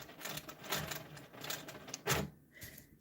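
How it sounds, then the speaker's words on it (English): A sewing machine stitches down a short stretch of a quilt, its rapid mechanical chatter running in repeated bursts with brief pauses before it stops near the end. "I'm going to stitch down a little ways."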